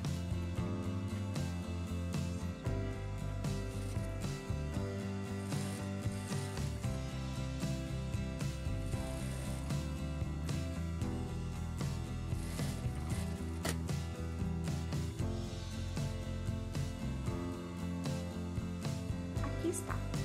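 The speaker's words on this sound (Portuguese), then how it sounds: "Vou passar agora uma costura de fora a fora, dobrando o xale" Sewing machine running a long seam straight across a folded shawl to finish the edge, a steady close mechanical rattle that continues for the whole stretch without pause.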